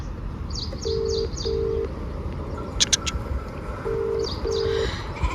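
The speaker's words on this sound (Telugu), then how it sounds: "ఫోన్ చేస్తాను, ఫోన్ ఎత్తట్లే" An unanswered phone call rings with a repeating ringback tone: two pairs of short double beeps separated by a pause. Birds chirp faintly in the background.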